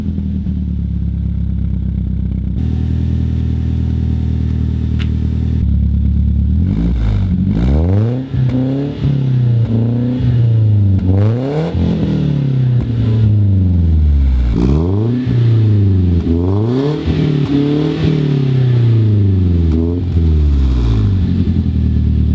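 A BMW E36 318iS with a custom stainless cat-back exhaust and dual 3.5-inch tips idles and then is revved repeatedly, each sharp rise and fall in pitch loud and close, the blips coming in a steady series.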